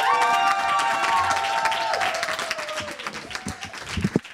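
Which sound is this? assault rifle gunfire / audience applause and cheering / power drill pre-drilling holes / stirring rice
audience applause and cheering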